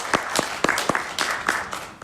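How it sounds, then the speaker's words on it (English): A theatre audience at a 75th-season kickoff event gives a brief round of applause: a short burst of scattered claps, moderately loud and close. "Please join me in a quick round of applause for all that hard work."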